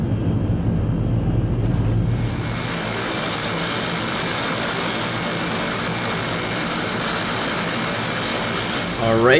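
A Fokker 50 turboprop engine runs at close range, a loud, steady roar with a high whine layered on top that holds constant throughout.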